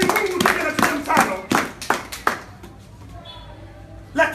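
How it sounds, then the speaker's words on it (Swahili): A church congregation at a Bible study claps loudly in a short burst of about eight sharp strikes that fades out after two seconds, with voices murmuring around it. "Tupigie Bwana makofi makubwa."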